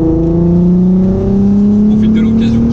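Steady Volkswagen Golf R32 engine drone heard from inside the car, with rising harmonic tones as it accelerates, loud and continuous throughout.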